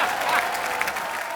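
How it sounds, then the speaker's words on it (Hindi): Studio audience applause on a Hindi comedy talk show, a dense, steady wash of clapping that holds at an even level from start to finish, with no voices over it. "तालियां।"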